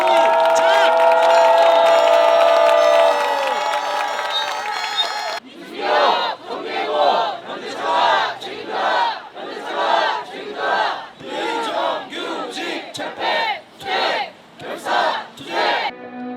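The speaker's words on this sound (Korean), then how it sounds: "동지들의 힘찬 함성으로 시작하겠습니다" A crowd at a Korean labor protest rally against Hyundai Motor opens with a loud, sustained roar of shouting and cheering for about five seconds, then breaks into rhythmic unison chanting in short, evenly spaced bursts.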